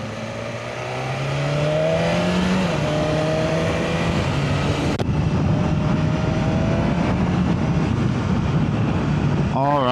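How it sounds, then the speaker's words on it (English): A 2025 BMW S1000RR superbike engine while riding, a steady loud roar with rising and shifting revs through gear changes, continuous over wind noise from start to finish. "this is the 2025 BMW S1000Rr"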